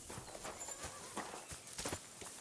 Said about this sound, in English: So yeah, so there's plenty of horses there.